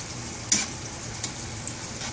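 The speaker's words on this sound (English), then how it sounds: "Make sure all your soup, powder soup is stirred up in there" Instant noodle soup with powdered seasoning and hot sauce stirred in a pan, a soft bubbling simmer with a few light utensil knocks against the pan, close and fairly quiet, no talking.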